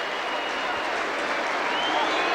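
A football crowd at a 1996 Wigan Athletic versus Northampton Town match roars and applauds as a substitute comes on, a broad, steady wash of cheering and clapping from a distant stadium crowd under commentary.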